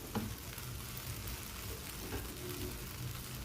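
Pansit noodles sauté in a pan with a steady, close hiss and crackle, while a utensil stirs and scrapes lightly throughout, and no voices are heard.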